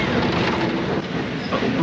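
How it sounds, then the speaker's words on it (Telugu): A distant train rumbles along the tracks, a steady broadband roar with faint rail clatter throughout. "ట్రైన్ ఇదిగో ఇక్కడ ఉంది"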